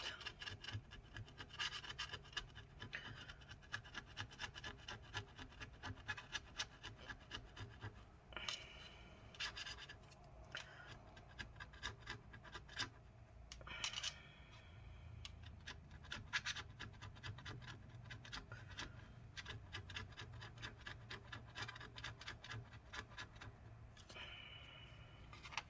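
A tool scrapes at a glued-in battery inside a MacBook A1534 during repair, with repeated short scratching strokes, faint and close, continuing unevenly for a long stretch.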